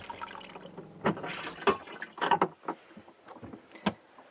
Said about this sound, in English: it has also the chemical cassette toilet, which I can flush with the press of the button